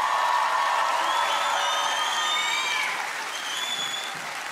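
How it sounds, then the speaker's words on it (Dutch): Enthusiastic audience applause after a breakdance semi-final performance, a dense wash of clapping with whoops and whistles that gradually thins out toward the end. "aan het applaus te horen was het publiek heel enthousiast over jou"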